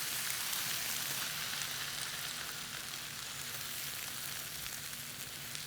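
Sweet potatoes roasting in a hot pan, a steady, close sizzle with fine crackling spatter that stays even and continuous, no talk over it.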